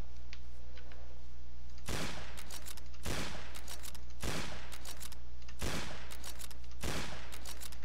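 Bursts of gunfire from a shooter video game ring out in five sharp volleys at roughly one-second intervals, each a loud cluster of rapid shots over a steady low background hum.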